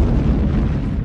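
Volcanic eruption sound effect: a continuous deep rumbling roar with dense low-end booming, loud and sustained throughout without pause.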